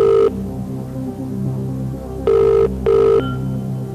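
A telephone bell rings loudly on a game-show set, one short ring followed by two more in a quick pair over a low background hum.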